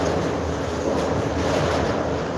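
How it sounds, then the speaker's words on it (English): Steady roar of waves breaking against a bridge, mixed with gusty wind buffeting the microphone, continuous and unbroken throughout. "the waves are hitting the bridge"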